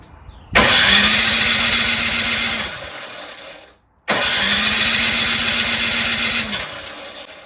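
A Troy-Bilt Storm 2410 two-stage snowblower engine cranks on its electric starter in two long, loud, close bursts of whirring that each run about three seconds and fade, separated by a short pause, without catching.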